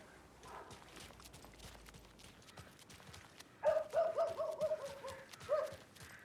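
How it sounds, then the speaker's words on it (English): A dog barking in the video game Alan Wake 2: several short, moderately loud barks come in quick succession in the second half, over quiet game ambience and footsteps. "There's a puppy somewhere there."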